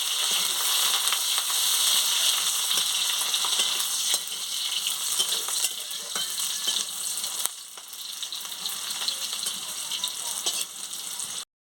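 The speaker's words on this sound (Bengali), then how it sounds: "এর সঙ্গে পেঁয়াজ কুচি দিয়ে দিচ্ছি, দিয়ে মশলাটাকে ভালো করে ভেজে নিচ্ছি।" Chopped onion and spices with dried red chilli frying in a pan, a dense close sizzle with occasional stirring clicks that softens slightly toward the end.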